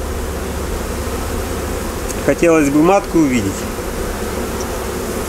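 Honeybees drone steadily around a hive as a newly caught swarm is moved from a trap into it, a close, continuous buzz, with someone speaking briefly in the middle.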